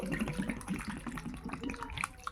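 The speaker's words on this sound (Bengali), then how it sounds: "প্রথমে উচ্ছেটাকে ভালো করে জল দিয়ে ধুয়ে নেব।" Running tap water splashing over bitter gourds as they are washed, a continuous close splashing and trickling with uneven bursts, fairly quiet.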